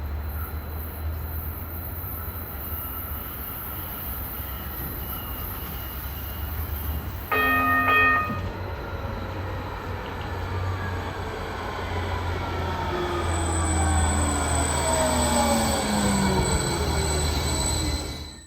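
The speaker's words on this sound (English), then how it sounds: "While I ride the light rail down to Hoboken" A light rail train heading to Hoboken rumbles along steadily with a low drone, a brief bell-like chime midway, and rising wheel squeal toward the end.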